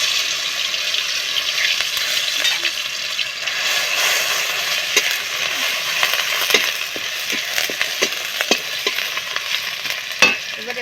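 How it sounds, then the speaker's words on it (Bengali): Garlic hits hot oil with a little sugar in a pan, cooking banana stem; a steady, loud sizzle runs throughout, with scattered sharp clicks and taps of stirring near the end. "চিনি দিয়ে এর মধ্যে এবারে আমি রসুন দেব।"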